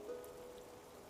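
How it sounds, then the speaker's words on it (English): Gentle rain falls steadily in a quiet, even wash of soft patter, faint and continuous with no voices over it. "It's raining"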